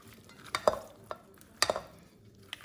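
Strawberry tarragon relish seasoned with salt and pepper being stirred in a bowl, with a few sharp spoon clinks and scrapes against the dish at irregular intervals, close and fairly quiet, with no talking.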